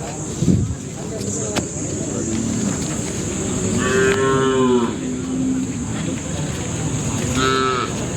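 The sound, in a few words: cattle mooing at a livestock market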